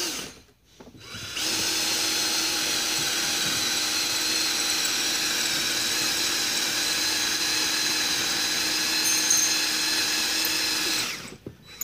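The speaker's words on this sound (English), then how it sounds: "I'm right now trying to drill all the way through a lug bolt." A power drill bores steadily through a lug bolt on a wheel stud of a Volkswagen GTI, a loud continuous high whine running about ten seconds between short gaps at the start and end.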